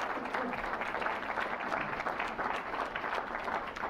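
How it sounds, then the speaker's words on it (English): Audience applause for the media panel at a local election debate in Simcoe Grey, a sustained even round of clapping from a hall crowd, moderately distant. "Let's give a round of applause to our media panel and thank them for joining us here tonight."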